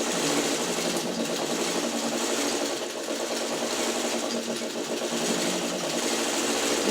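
A sewing machine runs steadily while stitching quilt seams for a churn dash block, a continuous close whirring hum that holds the same level for the whole stretch with no talk over it.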